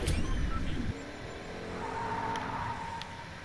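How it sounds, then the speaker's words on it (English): A car drives and skids in Fortnite: an opening burst of engine noise drops into a lower, steady motor drone with a rising whine of tires, a few faint clicks on top. "Are there cars in Fortnite now?"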